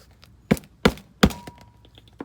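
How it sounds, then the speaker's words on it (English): Three sharp hammer knocks land about a third of a second apart, close and solid, tapping a rear shock part into place on a Dodge Ram 2500 diesel truck, followed by a few softer taps. "Where's my hammer?"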